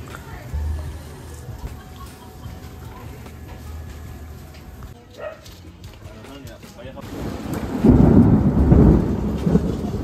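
Heavy rain falls with rolling thunder, a loud rumbling swell that builds toward the end over a steady downpour, with faint talk and a dog barking beneath.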